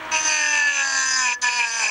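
A small solar-powered fan in full sun whirs at high speed, a steady high-pitched whine with bright tonal harmonics, close by, briefly dipping once before resuming.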